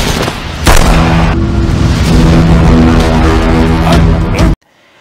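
A loud, sustained rumbling blast of noise with crackling debris, lasting several seconds before cutting off abruptly into near silence.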